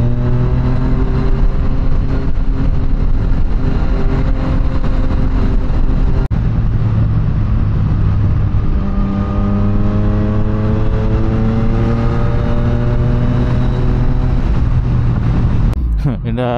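A Yamaha MT-09 motorcycle engine revs and accelerates, its pitch climbing steadily in rising sweeps, loud and close throughout.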